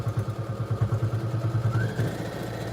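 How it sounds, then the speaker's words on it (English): A sewing machine back-stitches over a buttonhole on a quilted cell phone pouch, a steady rapid mechanical thumping that runs close and continuous, with no talking. "I'm going to go over the buttonhole twice, back stitch over it."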